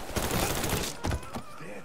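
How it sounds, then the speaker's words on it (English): Gunfire in the Mafia III video game, a burst of sharp shots near the start and a couple more around the middle, loud and close amid game noise with voices mixed in. "Don't let him go for his gun. Shoot him from the safe."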